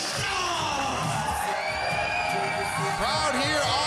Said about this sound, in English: Crowd here on their feet for the grinder.